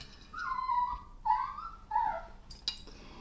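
A dog whines and grunts in short nasal bursts while tugging at something, with a brief faint clink near the end.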